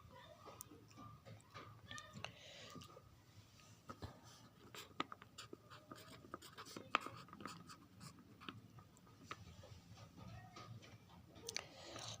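Marker or chalk taps and scratches across a classroom board as a teacher writes out English grammar examples, faint and irregular clicks and strokes throughout.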